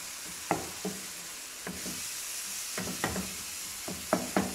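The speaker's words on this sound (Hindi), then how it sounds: "इसको अच्छी तरह भूनेंगे इसको ताकि बिल्कुल गल जाए मसाला" Masala for an Indian mashed potato bhurta gravy sizzles steadily in a pan while a spoon scrapes and stirs it in several uneven knocks, close and fairly quiet, with no one talking.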